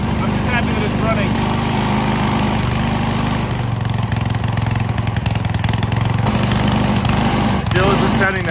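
Small engine that runs poorly, left running with the throttle set, a loud steady close putter with a rough uneven tone and no pauses, with a voice speaking briefly over it.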